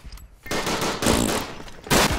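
A sawn-off shotgun fires in the World War I shooter Verdun, with several loud, close blasts and crackling bursts in quick succession and a short lull before the first.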